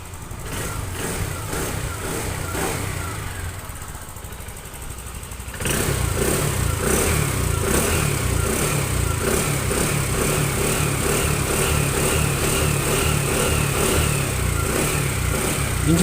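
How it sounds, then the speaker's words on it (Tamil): A TVS Jupiter 125 BS6 scooter engine, checked for abnormal noise, idles with a steady buzzing drone, then the throttle is opened and it jumps to a louder, sustained higher-rev hum, close up and without talking. "இன்ஜினோட ஆக்சிலேட்டரை அதிகப்படுத்தி காட்டுறேன்"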